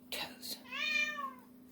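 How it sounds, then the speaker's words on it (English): Several excited house cats meow after hearing a can opener in a kitchen where chili is being cooked, a clear drawn-out meow following shorter calls, close and fairly loud over a low steady hum. "The cats are all meowing because when I opened the can"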